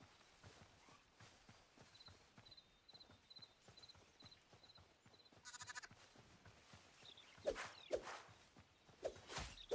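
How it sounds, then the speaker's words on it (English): Sheep bleat in the Hytale video game, with a few short calls near the end following soft rhythmic hoof or footstep sounds and a faint tone, all quiet. "Like cute little sheep?"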